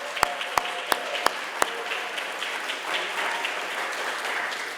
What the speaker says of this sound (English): let's give a round of applause to the Sanctuary Arts Center